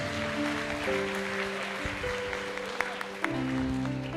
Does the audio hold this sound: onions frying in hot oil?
no